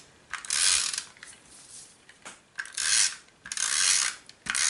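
A snail tape runner lays adhesive onto a card: four quick, close ratcheting rasps, each about a second long, with short quiet gaps between them.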